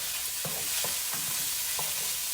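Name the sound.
beanie weenies browning in a pan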